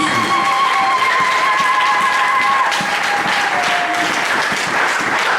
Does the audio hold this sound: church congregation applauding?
yes